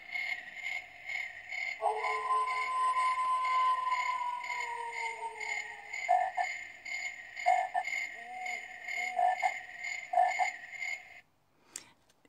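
A toy pretend-play camping lantern plays electronic nature sounds: steady chirping crickets with repeated frog croaks layered over them, fairly quiet and continuous, ending with a brief click.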